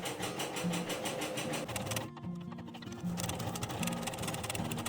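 A sewing machine runs steadily at close range with a rapid, even mechanical whir and needle chatter, pausing briefly midway before starting up again, with no voices over it.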